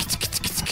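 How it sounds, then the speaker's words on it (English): Toothbrush scrubbing a patient's teeth in a VR dentist game, about five quick rhythmic back-and-forth bristle strokes, close and brisk, with no voices. "And then we gotta brush him."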